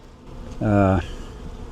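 Honey bees buzz briefly from an established 12-year-old hive during a removal, a single loud, tonal hum swelling for about half a second over a quiet background.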